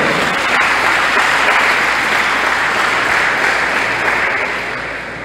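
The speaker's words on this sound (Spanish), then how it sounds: "Un aplauso para el hermano." Sustained, dense audience applause fills a church Advent proclamation gathering in Guayaquil, Ecuador, loud and steady before easing slightly at the end.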